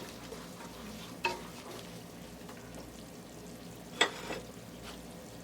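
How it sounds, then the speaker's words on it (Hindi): Half a cup of oil with whole garam masala and a large chopped onion frying until light pink, a constant soft sizzle broken by two brief stirring scrapes. "1 लार्ज अनियन डाल दें इसके अंदर, हाफ कप ऑयल, साबुत गरम मसाले और 1 लार्ज अनियन। इसको लाइट पिंक करेंगे।"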